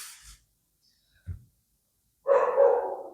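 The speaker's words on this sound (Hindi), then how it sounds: "डॉग्स, कुत्ते जो हैं बहुत, जब मैं पढ़ाने बैठता हूँ तभी भौंकते हैं यार" A dog gives a single loud, fairly close bark after a couple of faint short sounds and stretches of near silence.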